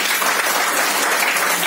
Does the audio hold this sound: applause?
yes